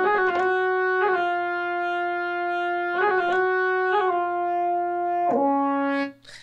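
A bright synth lead carries the hook of a Punjabi hip-hop beat, a sustained tone stepping through a repeating melodic phrase with clear note changes, steady and prominent, no voices.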